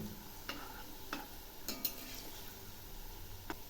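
Semolina pithas fry in hot refined oil on low heat, a soft background sizzle broken by a few light scrapes and clinks of a utensil as they are slowly stirred.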